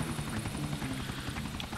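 Helicopter flying in the video game Grand Theft Auto IV: a steady, loud rotor drone with rhythmic chopping pulses running continuously and alone through the short stretch.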